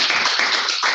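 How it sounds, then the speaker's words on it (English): A class breaks into a brief burst of applause, a short dense patter of hand claps lasting under a second. "Give her a round of applause."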